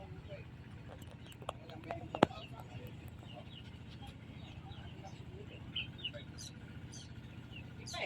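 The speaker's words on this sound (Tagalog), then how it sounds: "Ay, ang ganda ng mga ibon." Birds chirp in a farm field, scattered short tweets and calls near and far over a low background hum, with a sharp knock partway through and no clear speech.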